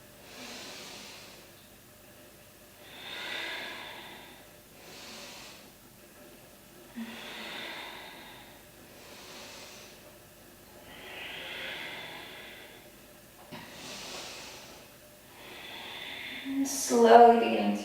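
Slow, steady breathing during a yoga session, soft airy inhales and exhales alternating every couple of seconds, close and gentle, with a brief rustle near the end.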